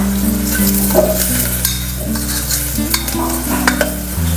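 Onions frying in a pan after turmeric, red chilli powder and coriander powder go in, with a loud, close, continuous sizzle broken by repeated stirring scrapes.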